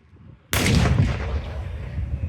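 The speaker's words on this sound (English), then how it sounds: "She's going to fire this. So this is our 90mm." A 90mm tank gun fires a single sudden, booming shot at an outdoor tanks and firepower show, the loud blast decaying into a long rolling echo.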